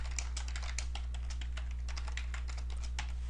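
Rapid keystrokes on a computer keyboard while code is typed, a dense steady patter of close clicks with a low electrical hum beneath and no talking.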